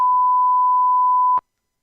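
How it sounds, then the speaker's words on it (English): A single steady censor beep, a pure mid-pitched tone held for over a second, then cut off abruptly into silence. "It's funnier when you put a beep on it."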